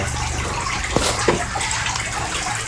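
Wet sphagnum moss is squeezed by hand, letting water splash and trickle into a container in a few short gushes over a steady background.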